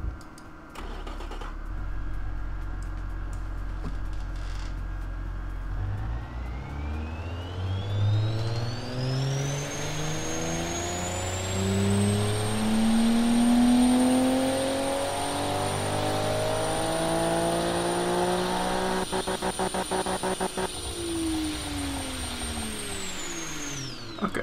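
A car engine in the racing and car-building game Automation revs up smoothly through its range, pitch climbing steadily to a sustained high peak before dropping away, loud and continuous with no talking.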